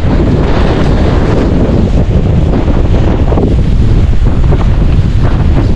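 Strong, gusty super typhoon wind roars continuously and buffets the microphone, loud and close with no other sounds standing out.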